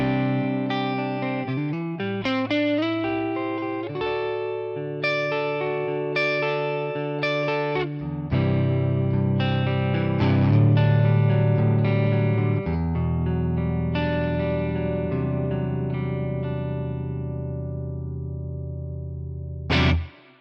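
An electric guitar on its neck pickup runs through a ToneX ONE amp model with added reverb, playing sustained chords and melodic lines that ring out with a lingering tail, loud and alone.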